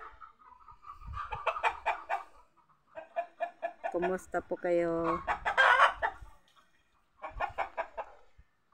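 Chickens cluck and a rooster crows close by in a rural Filipino yard. Bursts of clucking come in clusters with pauses between them, and a short greeting is spoken once.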